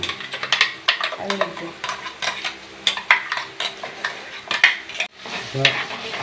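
A masala paste of ground onion, tomato, turmeric and chilli powder frying in oil, close and busy, with rhythmic stirring scrapes and utensil knocks against the pan over a soft sizzle.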